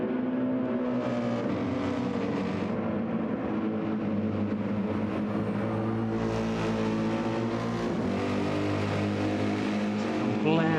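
GT7 race cars at Circuit de Barcelona-Catalunya blare down the start-finish straight in a video game, a continuous dense engine drone with shifting pitches, loud throughout, under faint talk.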